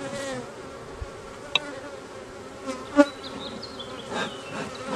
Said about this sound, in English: Like look here, there's a lot of bees.